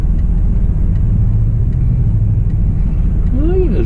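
Cars rolling through heavy, congested traffic make a steady low rumble of engines and tyres that runs the whole time, with one brief tonal sweep near the end. Someone talks over it throughout.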